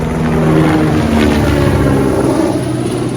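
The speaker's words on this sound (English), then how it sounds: "I don't know if you heard that helicopter." A helicopter flies overhead at an outdoor gathering in Kana, Maui, its loud rotor drone steady and continuous throughout with no voices.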